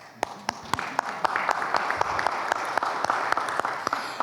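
An audience at a racial justice grantee event applauds, with dense steady clapping and a few sharp, close individual claps standing out above the crowd throughout.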